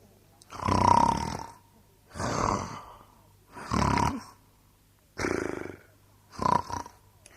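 A man imitates loud snoring as if asleep, five long rasping snores in a slow regular rhythm with quiet pauses between, close and clear.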